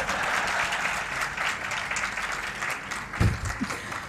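An audience at a spiritual talk breaks into sustained applause, a dense even wash of clapping from many people that carries on for several seconds, with a few louder claps near the end.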